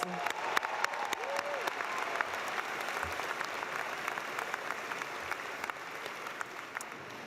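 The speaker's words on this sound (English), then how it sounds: "Let us give ourselves a round of applause." Steady applause from a commencement crowd at a business school master's and doctoral graduation ceremony, a continuous medium-distance wash of many hands clapping.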